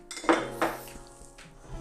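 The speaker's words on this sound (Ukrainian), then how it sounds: "На розігріту сковорідку додаємо горіхи" Walnuts tipped into a hot frying pan while cooking kutia, giving a few bright clattering clinks against the metal pan, followed by quieter rattling as they settle.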